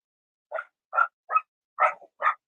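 Small dogs give five short, separate barks in quick succession, clear and fairly close, with no other sound around them.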